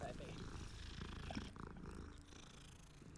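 Low, steady purring from a cat in Hogwarts Legacy rumbles close up, with a brief higher chirp partway through before the purr softens and continues quietly under game ambience.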